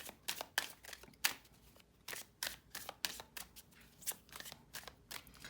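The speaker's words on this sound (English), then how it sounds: "So let me shuffle these." A deck of tarot cards is shuffled by hand, producing quiet, rapid riffling bursts and soft slaps in an uneven rhythm, close by and alone.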